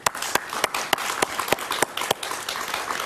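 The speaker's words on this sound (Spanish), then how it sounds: "un aplauso para él, por favor" A television talk-show studio audience applauds, a thin, scattered run of distinct hand claps at a moderate distance, with no talk over it.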